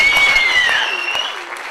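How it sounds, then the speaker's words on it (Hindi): An audience at a business celebration claps loudly, and the applause tapers off over under two seconds as a voice carries on. "ताली बजाने तो बजा सकते हैं।"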